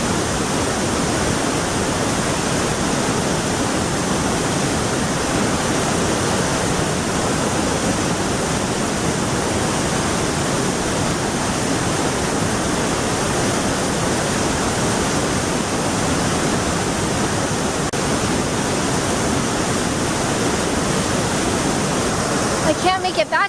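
Icy waterfall outdoors, a loud, constant rushing roar of falling water filling the whole stretch, steady and unbroken.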